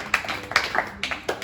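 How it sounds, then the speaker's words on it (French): A small audience at a church evangelism training session claps briefly, a handful of separate, uneven hand claps rather than a full ovation, fairly close and clear. "Applaudissons pour notre."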